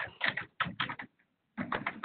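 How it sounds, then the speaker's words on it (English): Clusters of quick clicking keystrokes on a computer keyboard come through a webinar's open microphone, arriving in three short bursts separated by gaps. "Can you stop typing, somebody?"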